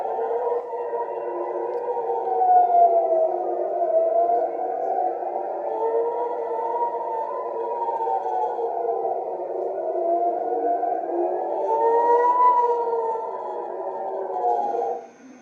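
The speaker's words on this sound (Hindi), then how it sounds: "इस वीडियो में जो है एक सायरन आपको सुनाई दे रहा है।" An air-raid siren in Israel wails steadily, its pitch slowly rising and falling in long cycles, sounding distant and echoing with no talk over it.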